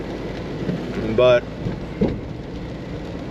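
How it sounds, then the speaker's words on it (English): Steady rain falls outdoors with a dense, constant hiss, and a low rumble of thunder rolls beneath it while a voice speaks briefly. "now it's raining"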